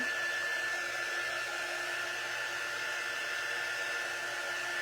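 Hair dryer blowing to dry paint on a Halloween door hanger, a constant steady whine and rushing air held at even loudness throughout with no talking.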